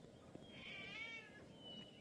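A cat in Gabriel Knight 3 lets out a single drawn-out meow after being sprayed with a water bottle, fairly faint against low background noise.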